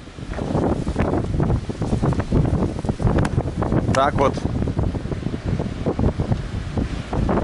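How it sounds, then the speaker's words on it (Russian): Near-storm wind and waves at a pier on Mount Athos, Greece, a rough blustery roar buffeting the microphone with surging water beneath, loud and constant while someone speaks briefly. "Можете посмотреть, сегодня прямо какой-то полушторм."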